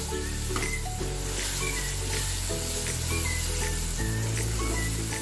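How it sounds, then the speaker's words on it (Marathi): Half a kilo of chicken is stirred with masala in a hot pan for Malvani chicken sukka, giving a steady close sizzle and frying hiss with a faint tonal hum in the background. "आता हे सर्व आपण व्यवस्थित मिक्स करून घेऊया."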